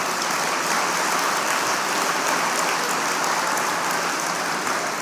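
Large audience applause at a SkillsUSA Pennsylvania opening session for a school's award; a loud, dense, even wash of clapping, sustained for about five seconds, rain-like in texture, with no voices.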